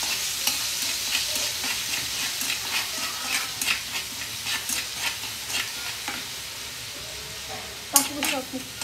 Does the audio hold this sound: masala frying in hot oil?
yes